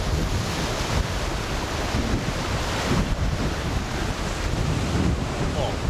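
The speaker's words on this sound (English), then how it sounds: "It's pretty windy" Strong wind blusters across a beach on the Cretan coast, a constant loud roar buffeting the microphone, with surf washing underneath and no clear talk.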